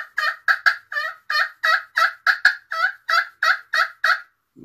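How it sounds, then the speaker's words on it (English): Rapid series of about fifteen loud, rattling wild turkey gobbles in a steady rhythm, clear and close, with no talking. "he'll gobble on the roost."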